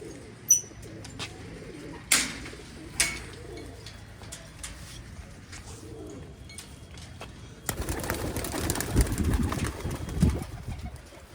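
Pigeons cooing in a home loft in cold winter weather, soft repeated coos with a few sharp knocks and wing flutters, then a louder burst of broadband scuffling near the end; no talk.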